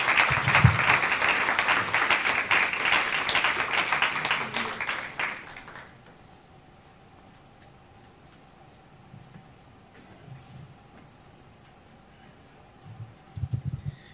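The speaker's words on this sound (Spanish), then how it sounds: "Demos un aplauso al profesor Luis Carlos del Cid" Audience applause for Professor Luis Carlos del Cid, a loud, dense burst of clapping that fills the first five seconds and then stops abruptly, leaving near silence with a few faint low thumps before a brief stir at the end.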